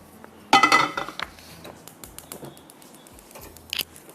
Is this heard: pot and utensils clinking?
yes